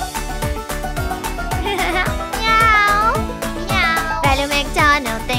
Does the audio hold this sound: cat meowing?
yes